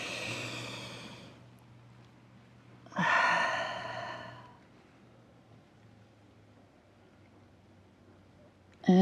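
Slow, deep yoga breaths outdoors in the shade of palm trees: a long exhale, then a louder breath a few seconds later, over a faint low steady hum, with another breath starting at the end.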